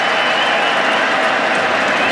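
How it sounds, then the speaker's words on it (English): Crowd cheering and applauding at Edgbaston during the England v India cricket Test after a dropped catch, a steady, loud wash of roaring voices and clapping throughout. "they're standing up all around Edgbaston and cheering"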